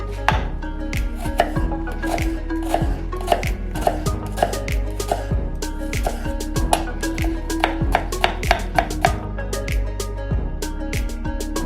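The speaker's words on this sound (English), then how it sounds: "We're gonna chop some onion first." A knife chops onion on a cutting board for a shrimp burger mix, giving a steady run of quick, close chopping taps over a constant tonal background.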